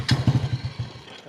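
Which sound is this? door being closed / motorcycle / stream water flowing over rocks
motorcycle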